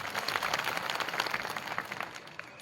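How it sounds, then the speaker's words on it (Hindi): An audience at an outdoor tribal rally with a tent and stage claps in steady, dense applause, loud and close, tapering slightly toward the end, with no talking. "सबसे पहले आप ताली बजा के अभिवादन करिए"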